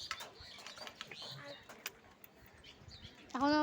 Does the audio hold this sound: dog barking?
no